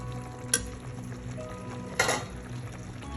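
Creamy Hyderabadi chicken gravy simmers and bubbles softly in a pan, and two short scraping stirs break through the quiet, steady cooking sound.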